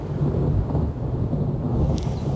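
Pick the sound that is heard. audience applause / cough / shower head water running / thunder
thunder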